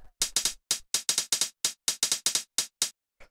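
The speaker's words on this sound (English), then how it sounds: "So the main two here are this closed hi-hat" Closed hi-hat sample for techno, a run of crisp, short, bright ticks in an uneven rhythm, close and dry with no other sound.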